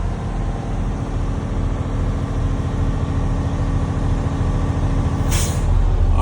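A truck engine idles with a steady low rumble, then the air brake governor cuts out with a short sharp burst of hissing air near the end.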